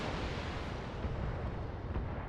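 Long-range missiles fire and explode in the BattleTech video game, a dense roaring rumble of blasts lasting a couple of seconds with no talk.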